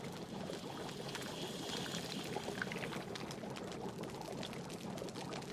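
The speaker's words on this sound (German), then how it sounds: "Deswegen gießen wir jetzt mal gerade schnell diese 15 Bars hier raus" Molten metal poured into bars at a smithy in Life is Feudal gives a steady, fairly quiet rushing, trickling pour that runs on without a break. A voice speaks briefly partway through.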